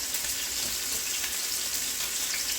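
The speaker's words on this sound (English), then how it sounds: "We're gonna sear it about 4 minutes on each side." Beef shanks sear in a hot pan, giving a steady, dense sizzle and crackle that runs unbroken throughout, close and fairly loud.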